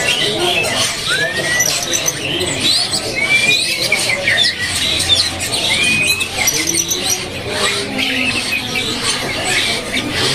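A magpie-robin (kacer) singing among other caged birds at a bird kiosk, giving sharp whistled phrases and chirps over a dense, constant chatter of squawks and twitters.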